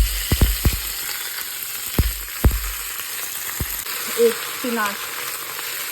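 Spinach leaves sautéing with garlic in a pan give a steady close sizzle, broken by several sharp knocks and scrapes of a utensil against the pan, with a brief voice near the end.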